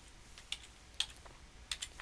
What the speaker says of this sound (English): so type that in here